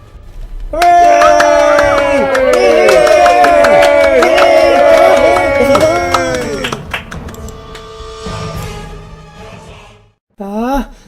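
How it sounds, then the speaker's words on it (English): A group of voices cheers loudly with sustained whoops and yells that gradually taper off, followed by a short burst of cheering at the very end. "Give a big cheer"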